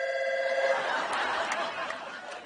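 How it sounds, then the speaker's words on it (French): A telephone rings on a comedy television stage, a steady electronic ringing tone running beneath audience chatter and laughter. "quand soudain le téléphone sonne"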